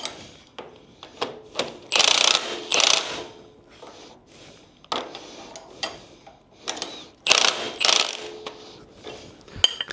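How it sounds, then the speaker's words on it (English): Ratchet wrench snugging bolts on the front end of a 1968 Chevrolet C10 during a QA1 and Wilwood install, heard as close, bursts of rapid clicking separated by short pauses. "We'll snug it up, and then I'll torque it down."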